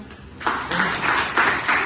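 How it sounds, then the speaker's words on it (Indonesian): A classroom of students gives a brief round of applause, several uneven bursts of clapping at moderate distance, with no voices over it. "Baik, tepuk tangan."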